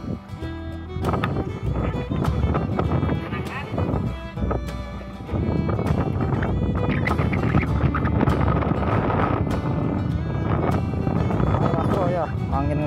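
Strong, gusty wind roars steadily across an open-water fishing platform (bagan) at sea off Kohod, buffeting the microphone with broadband rumble throughout, with a boat and voices faintly mixed in underneath.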